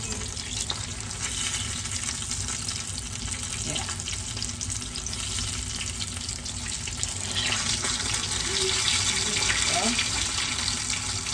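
Beef empanadas frying in hot oil, a steady close-up sizzle and crackle that holds throughout and swells slightly toward the end.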